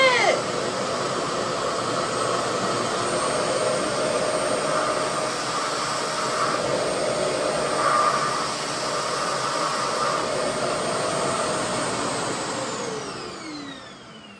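Revair suction hair dryer running as a loud, steady whooshing roar with little change, while a voice speaks faintly now and then.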